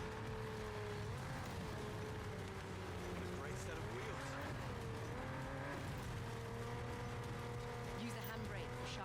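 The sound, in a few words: car driving and skidding in video game First Light 007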